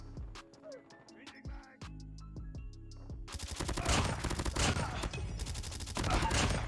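Rapid automatic gunfire erupts in a Call of Duty Mobile match. Sparse spaced shots come first, then a dense, loud sustained burst of fire with explosive cracks dominates the second half.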